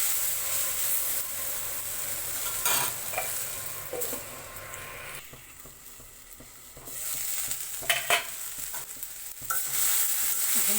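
Okra (bhindi) frying in a wok, with a constant sizzle broken by scraping stirs. The sizzle drops quieter midway, then loud stirring clatters return.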